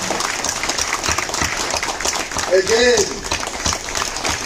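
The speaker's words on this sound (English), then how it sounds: "May you now join me in giving a round of applause to the Uzima team." Audience applause at a university graduation ceremony, honoring the Uzima University staff team: dense, sustained clapping that fills the hall, with a voice speaking briefly over it.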